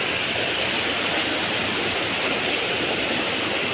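Floodwater from Typhoon Kristine rushes past a garage on a flooded street, a loud, steady, unbroken roar of churning water filling the whole clip.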